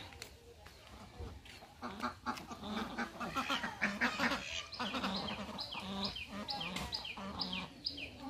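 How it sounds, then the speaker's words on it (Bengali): Ducks swimming in a village pond in Habiganj quack in loud, repeated bursts that overlap into a busy, nearby chorus. "আর এই যে হাঁস pack pack pack pack pack pack করছে"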